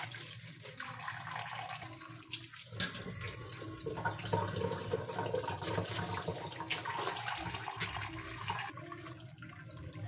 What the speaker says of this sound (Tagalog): Mahina ang aming tubig. Ganito talaga ang tubig namin dito. Sobrang mahina.